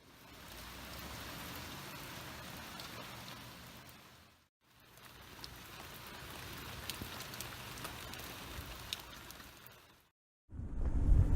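Steady rain falls as a dense, even hiss that breaks off for a moment, resumes, then stops before a louder low rumble at the end.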